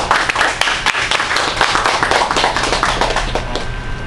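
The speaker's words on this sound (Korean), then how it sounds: "박수 한번 부탁드리겠습니다" Audience applause after a lecture, dense close clapping from a room of listeners that runs steadily and loudly through the whole stretch without a break.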